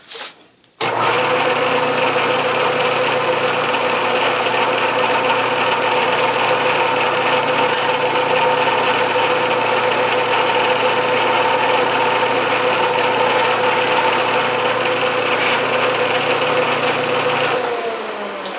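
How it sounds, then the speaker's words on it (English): A milling machine with an 1/8 inch ball end mill cuts grooves into a wooden pattern for a sand rammer, a loud continuous whine and rasp starting abruptly and running steadily for most of the clip, then stopping. "here I am on the mill, and never mind that chuck, because it's only an 1/8 inch ball end mill, and I will feed up, raise the knee 65 thousandths"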